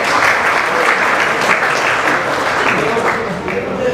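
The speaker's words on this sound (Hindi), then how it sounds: "तालियों में कंजूसी नहीं होनी चाहिए." Sustained, loud audience applause fills a phone launch event for the Realme 14T, a dense steady wash of many hands clapping close by for the full few seconds.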